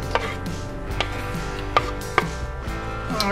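A knife chops carrot on a cutting board for a pork stir fry, striking in a steady run of close, crisp taps with a few sharper hits standing out.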